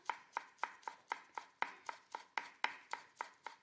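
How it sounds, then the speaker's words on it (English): A knife chops fresh coriander stems on a board for a Spanish vegetable paella, giving about fourteen crisp, evenly spaced taps in a steady rhythm. The chopping is close and plays alone. "we're just going to give a nice fine chop on those stems"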